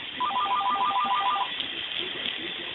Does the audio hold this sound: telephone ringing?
yes